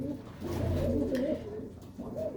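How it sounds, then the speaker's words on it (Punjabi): Pigeons cooing close by, a couple of low throaty burbling calls in a row. "ਵੱਡਾ ਕਬੂਤਰ ਆ ਜਿਹੜਾ ਤੁਹਾਨੂੰ ਦਿਖਾਇਆ"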